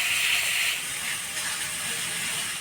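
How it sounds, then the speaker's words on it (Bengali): Spice paste of onion, garlic and chilli with turmeric and salt sizzles and hisses steadily in a pan while being stirred, a close, continuous frying sound with no talk. "মশলাটা ভালো করে নাড়াচাড়া করে নিলাম"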